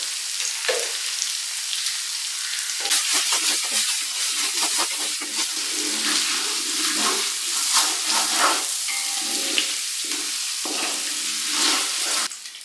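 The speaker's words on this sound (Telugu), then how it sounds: "అల్లం వెల్లుల్లి పేస్ట్, కారం మంచిగా వేగిపోయిందండి" Ginger garlic paste and chili powder frying in a large pot for a 2 kg chicken biryani, steady close sizzling with crackles and stirring scrapes throughout.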